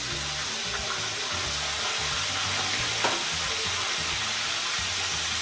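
Tilapia tails frying in hot oil, a steady dense sizzle running throughout with a faint clink near the middle and no talking.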